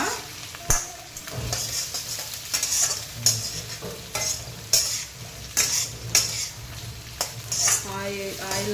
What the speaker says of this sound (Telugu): ఇప్పుడు ఆనియన్స్ ఆనియన్స్ బాగా ఫ్రై చేసుకోవాలి ఇప్పుడు హై ఫ్లేమ్లో పెట్టాను అనమాట